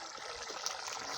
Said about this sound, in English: I want to pour it inside the rice.